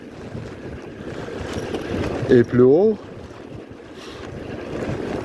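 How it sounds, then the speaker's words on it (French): Wind buffets the microphone of a rider pedalling a bicycle, a steady rushing roar that swells and eases, with someone speaking briefly in the middle. "dans la position du pédalage, j'ai du vent jusqu'au menton"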